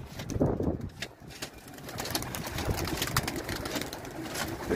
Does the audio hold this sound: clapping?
no